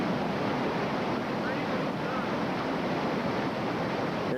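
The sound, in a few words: whitewater river rapids on the Youghiogheny River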